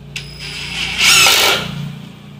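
A KEELAT 18v brushless cordless impact driver drives a screw in one short, close, loud burst of whirring and rattling that swells and then tapers off.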